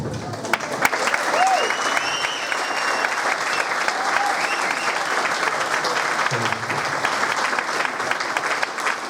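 A school jazz cafe audience applauds a departing senior with steady, dense clapping that holds evenly throughout, with a few cheers and whistles mixed into the crowd.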